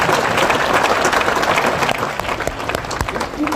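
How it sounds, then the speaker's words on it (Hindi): Loud, dense applause from an audience at an anniversary gathering, steady clapping for a few seconds that thins slightly toward the end. "जोरदार तालियां होंगी।"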